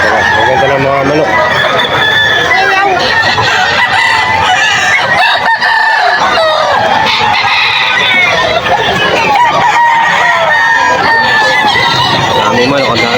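A crowded chorus of roosters crowing and hens clucking at a Friday chicken market in Bocaue, Bulacan, fills the air nonstop, loud and overlapping, with faint human chatter underneath.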